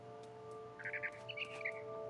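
Bird chirps from the video game What Remains of Edith Finch, a few short bright tweets in two quick bursts over a steady tonal hum from the game's background.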